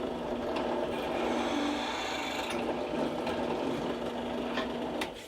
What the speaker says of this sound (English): anyways, I'll drill the hole.